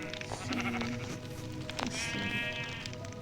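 Sheep bleat in Minecraft, a few wavering calls over a busy game background, fairly close and moderately loud.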